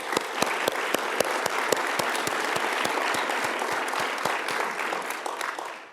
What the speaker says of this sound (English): Let's give a huge round of applause for Anne.